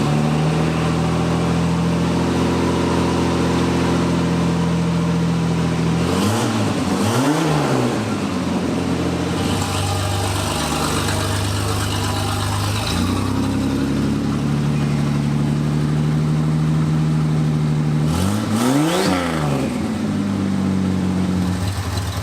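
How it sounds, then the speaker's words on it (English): A barn-find Buick Grand National's turbocharged engine idles steadily, then twice revs up sharply and falls back, loud and close with no talk. "I can hear a turbo on a rev now."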